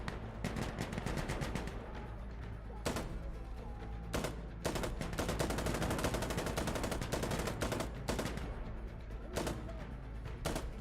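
Rapid automatic gunfire from a video game as a magazine is emptied, heard as dense, sustained bursts broken by short pauses, loud and close with no talking.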